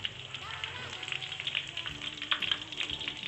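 Chicken for teriyaki sizzles and crackles in hot oil in a pan, a busy, close frying hiss with bursts of popping, steady throughout.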